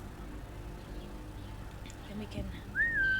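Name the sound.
whistling in the video game Assassin's Creed Mirage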